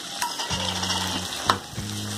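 Tomatoes frying in a pan for Tamil ridge gourd thokku, a continuous close sizzle with a couple of scraping stir strokes and a low humming tone underneath.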